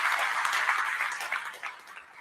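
A group of young people applauds at a gathering in Monfalcone, a dense, even patter of many hands clapping at moderate distance that thins out slightly toward the end.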